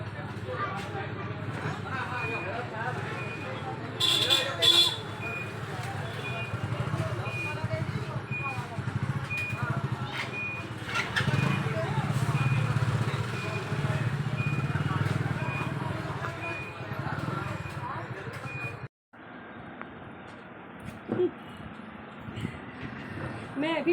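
Dense city traffic heard from inside a moving auto rickshaw: a continuous engine rumble and road noise, with a couple of horn blasts early on and a voice talking over the din.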